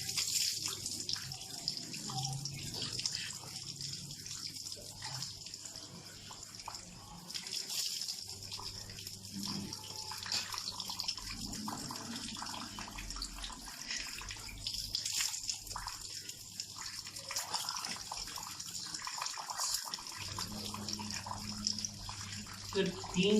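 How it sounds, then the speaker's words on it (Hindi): Water pouring and splashing steadily from a tap during ritual ablution washing of face and hands, continuous running flow with intermittent splashes, close by, with a voice talking over it. "जब आप मुंह पे पानी डालेंगे"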